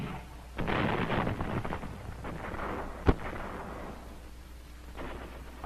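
WWII battle on Saipan with artillery and mortar fire: distant rumbling blasts and a low roar, then one sharp, louder crack midway, followed by fainter rumbling, with no talking.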